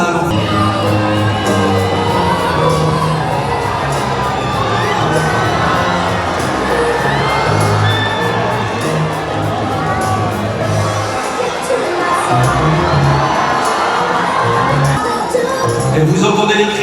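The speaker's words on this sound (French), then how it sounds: "Et vous entendez les cris au bas du tapis rouge." A crowd at the foot of the Cannes Film Festival red carpet screams and cheers as a film star arrives, a dense and loud continuous roar of shouts and whoops with no gaps.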